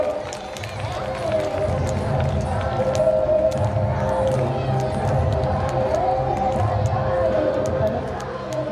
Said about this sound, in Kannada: ಜೋರಾದ ಚಪ್ಪಾಳೆಯೊಂದಿಗೆ ಆ ವಿದ್ಯಾರ್ಥಿಗೆ ಅಭಿನಂದನೆ ಸಲ್ಲಿಸಬೇಕು